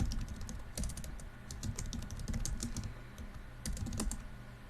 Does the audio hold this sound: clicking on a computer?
yes